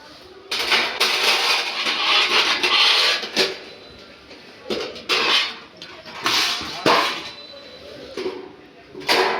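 Stainless steel portable folding charcoal BBQ grill being folded, with repeated bursts of metallic scraping and rasping broken by short pauses and a few sharp clanks, close by, while a person talks.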